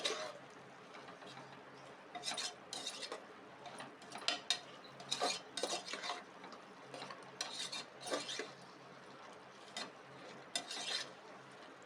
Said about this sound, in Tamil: இப்போ இஞ்சி பூண்டு வாசனை போகிற அளவுக்கு நல்லா வதக்கி விட்டுடலாம்.